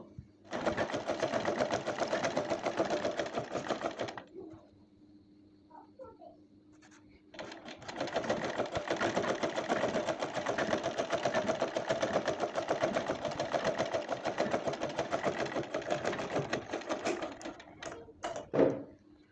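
Sewing machine stitching along the side of a fabric strip meant as a ribbon for a handmade blouse-fabric flower, a steady close whirring run that pauses briefly midway, then resumes for a long continuous stretch before stopping.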